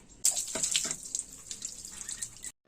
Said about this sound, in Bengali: পুরো কালো জল বেরোচ্ছে